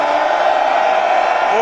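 A huge crowd of Biafrans in Anambra cheering and shouting, a loud steady roar with no breaks.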